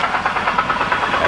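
A BMW E92 325i with a manual gearbox idles roughly with a heavy rhythmic knock, the deep repeated tapping pulsing several times a second under the engine's steady drone.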